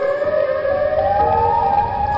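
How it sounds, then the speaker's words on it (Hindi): Siren Head, the towering creature in an animated horror story, blares its siren, a loud continuous wailing tone slowly rising in pitch, with no talking. "सायरन हेड गुस्से में आकर अपना सायरन जोर जोर से देना शुरू करता है"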